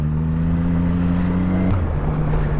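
Yamaha MT-09 (2015 FZ-09) motorcycle with an aftermarket exhaust revving loudly up close, a steady engine drone that drops in pitch near the end, with no clear crackle or pop standing out.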